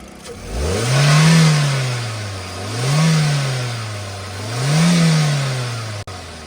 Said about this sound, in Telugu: एक बार स्टार्ट करो गाड़ी